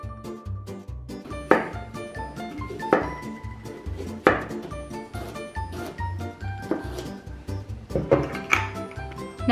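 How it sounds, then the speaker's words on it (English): Repeated knife chops through a carrot on a cutting board, a steady rhythm of sharp taps close up, with no talking. "Next, we're going to chop the carrot."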